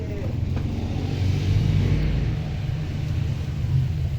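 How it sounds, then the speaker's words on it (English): Motor vehicle rumble, probably a motorcycle, swelling steadily as it approaches and passes; a continuous low engine drone that peaks mid-clip, with no talking. "oh look, there's a motorcycle coming"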